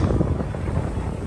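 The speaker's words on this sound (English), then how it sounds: "Big wind." Strong wind buffets the microphone outdoors at Magic Kingdom, a loud, rumbling low roar that fills the short moment without any talk.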